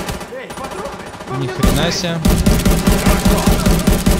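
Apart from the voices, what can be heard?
gunfire in video game Tom Clancy's The Division 2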